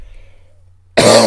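One loud, sharp cough bursts out close to the microphone after a near-silent pause.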